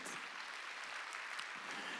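A congregation applauding during a Sunday church worship service, a dense, steady clapping that holds evenly from start to finish without pause.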